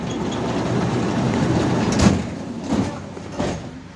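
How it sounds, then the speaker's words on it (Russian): Doors of a 71-605 tram close at a stop, giving a few mechanical thumps and clunks close by over the steady low hum of the tramcar interior, with no talking. "Двери закрываем."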